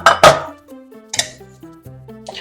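Metal lined muffin pan being handled during batter filling, with two sharp clanks up front and then lighter clinks and taps at irregular intervals, close and clear with no talking.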